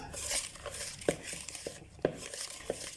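Milk tart filling being stirred together in a bowl, with soft repeated utensil taps and scrapes against the dish at a steady, uneven rhythm, close and fairly quiet.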